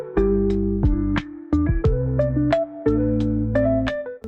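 A children's TV show plays in the background of a home nail-art session, carrying a bright melodic tune of plucked, bell-like notes in short phrases at moderate volume, with no voices.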